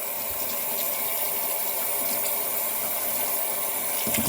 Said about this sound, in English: if you put it in the sink and you drain and you run your cold water over the top